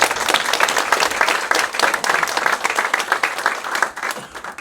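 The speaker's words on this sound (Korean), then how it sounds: "우리 다시 한번 힘찬 박수" Dense, steady applause from a church congregation after a choir's hymn at a dedication service for a newly relocated church, many hands clapping close and loud throughout with no pause.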